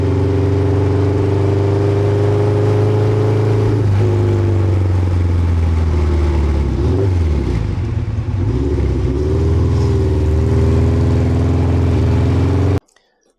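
A 1970s production superbike engine roaring at sustained high revs, loud and close, with the pitch dipping and rising briefly midway before cutting off abruptly at the end.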